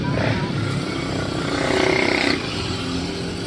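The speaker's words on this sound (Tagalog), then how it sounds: "May motor pa sa likod." A motorcycle passes behind in a busy street near a shopping plaza, its engine rising to a loud swell and dropping off, under steady traffic rumble and nearby voices.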